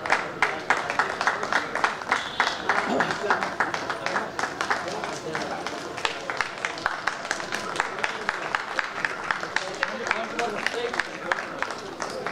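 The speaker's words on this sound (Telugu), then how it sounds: "చప్పట్ల వర్షము" Applause at a student award ceremony run by a Brahmin service association at Geetha Bhavan: a crowd claps steadily and continuously for about twelve seconds. A voice speaks over the clapping.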